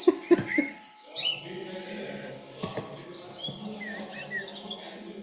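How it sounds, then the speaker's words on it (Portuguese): Recorded birdsong plays softly in the background indoors, with scattered thin chirps and tweets over low room noise and faint murmuring. "Eu abaixei já o som dos pássaros porque não é preciso eles estarem altos"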